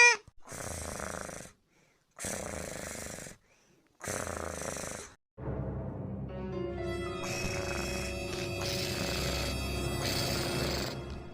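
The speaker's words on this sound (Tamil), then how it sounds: "இந்த பொம்பளை வாசல்ல கிடந்து நல்லா கொரட்டை விட்டு தூங்கிட்டு கிடக்கா" A woman sleeps at a house doorway and snores loudly. Three long, rasping snores come in a slow, regular rhythm with silent pauses between them, then give way to a continuous ringing, tonal noise.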